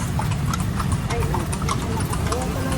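A horse's hooves clip-clop steadily on pavement in Rizal Park, a quick regular beat heard under nearby talk and crowd noise.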